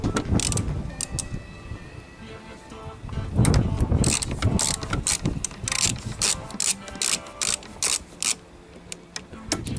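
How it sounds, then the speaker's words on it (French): Ratchet clicks while unscrewing a headlight screw on an Audi A4 B8, a run of sharp rhythmic pawl ticks close by, growing brisker toward the end with faint handling noise underneath. "Dévisser cette autre vis de quelques tours."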